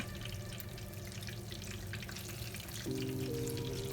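Fish coated in turmeric fries in hot oil with a steady, continuous sizzle that holds at an even level and thickens slightly toward the end, with no voices present.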